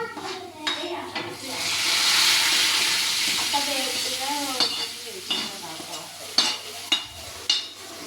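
Rice batter poured into a hot appam pan, a loud rising sizzle that swells then settles, followed by several sharp scraping and clinking knocks, with a voice talking faintly.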